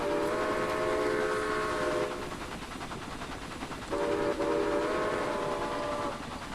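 Steam locomotive whistle of a Jenny Lind engine in Railway Empire sounds twice, each a sustained chord-like blast of about two seconds, over the continuous rumble of the moving train, with no talking.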